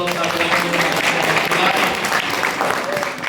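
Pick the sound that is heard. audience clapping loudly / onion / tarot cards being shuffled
audience clapping loudly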